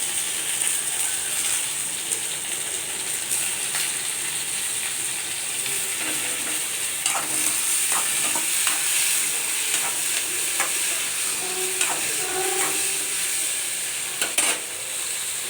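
Tomatoes being stirred in a frying pan with onions: a steady sizzle and hiss, with scattered clinks and scrapes from a utensil against the pan, close and moderately loud, no talking.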